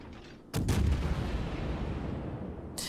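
A Zao cruiser in World of Warships fires a salvo, a sudden loud booming blast that rolls into a long rumbling decay, then a second sharp report right at the end.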